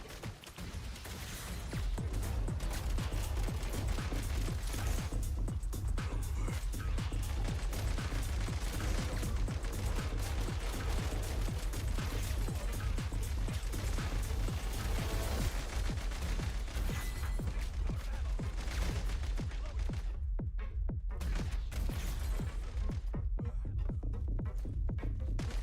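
Dense, continuous rattling gunfire in Genshin Impact, a steady mechanical clatter of rapid shots filling the scene at a constant level, with a brief thinning near the end.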